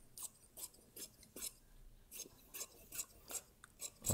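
Scissors cutting lining fabric down a side seam, a steady series of crisp, close snips repeating about every half second, with no talk.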